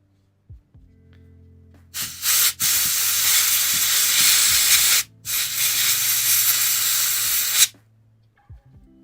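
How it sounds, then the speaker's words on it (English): Canned air sprayed into a Game Boy Color cartridge area, two loud sustained hissing bursts of about three seconds each, close up, with a brief pause between and light handling clicks before and after. "spray some canned air in there."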